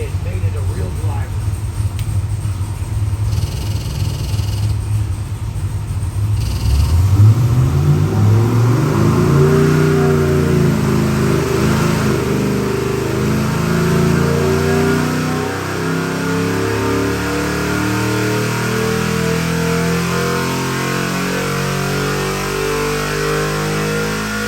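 A 302 cubic inch small journal small block Chevy performance crate engine roars and climbs steadily in pitch as it revs toward 6,500 RPM, loud and close, then holds a high rough drone before settling.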